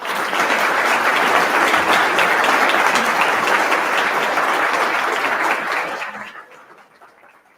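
A large audience at the Booklovers Ball gives sustained, loud applause that holds steady for about six seconds and then dies away, with some voices mixed in.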